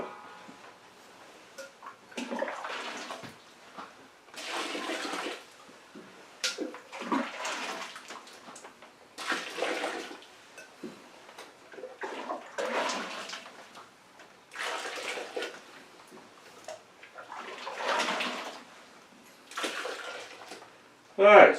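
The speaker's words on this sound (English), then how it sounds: "The first thing we want to do is get some hot water onto these grains." Hot water is poured onto rye whiskey mash grains in a fermentation bucket, a series of gushing bursts repeating every few seconds, each splash loud and close, separated by short quiet gaps.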